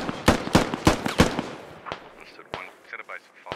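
Gunfire in the military shooter game Squad: a rapid run of loud, sharp shots, followed by scattered single cracks and fainter distant reports.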